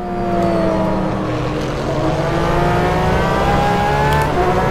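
Porsche 911 RSR GTE race car engine in rFactor 2 at Portimao, a loud continuous high-revving howl with rising and shifting pitch throughout, no talking.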